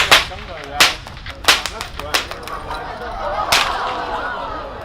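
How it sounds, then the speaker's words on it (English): Stock whip cracked with the helicopter technique, a run of sharp loud cracks at irregular intervals, about six snaps, close by with outdoor background. "So that's how loud our whips can be."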